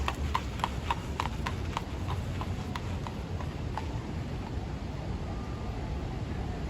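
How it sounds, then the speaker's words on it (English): A horse passes on a city street in Midtown Manhattan near Bryant Park at night, its hooves clip-clopping in a steady rhythm that fades as it moves off, over traffic and street noise. "We got a nice horse passing by."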